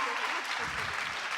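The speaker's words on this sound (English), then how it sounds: "Please give a round of applause." Audience at YouTube FanFest applauds briefly, a dense wash of clapping that may be mixed with voices.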